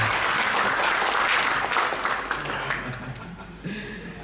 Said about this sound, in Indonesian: Tepuk tangan dulu untuk kehadiran Pak Nanda.